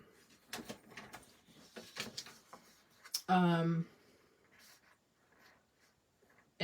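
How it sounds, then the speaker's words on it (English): Thick basic white cardstock is cut to 4 1/4 with one brief, loud scraping slice midway, surrounded by soft tapping and handling sounds close by. "let's start with thick basic white cardstock, and I'm gonna cut it at"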